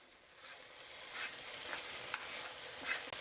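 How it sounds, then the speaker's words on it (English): Steady sizzle of hamburger meat frying in a pan, with a few scraping clinks of a utensil stirring it. "I'm going to give this hamburger a stir here."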